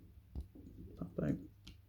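A plastic part of an AOYI Mech Roll transforming robot toy folds into place with a few soft, close clicks, heard under quiet talking.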